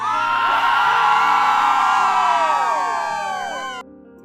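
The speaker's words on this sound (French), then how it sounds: "Acclamé par la foule." A large crowd roars and whoops in an old Soviet film scene, a loud sustained cheer of many voices that swells, then fades and cuts off abruptly near the end.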